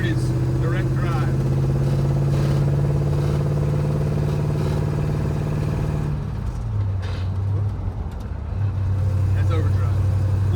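A 1958 Plymouth cruises in overdrive, its engine a steady low drone with road rumble inside the cabin; the pitch drops partway through as revs settle, and a voice talks over it.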